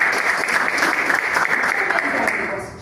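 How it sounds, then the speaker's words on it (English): Steady applause at a Toastmasters meeting for a speaker, dense clapping from a roomful of people held at an even level throughout and thinning slightly at the very end. "Let's give you a round of applause again."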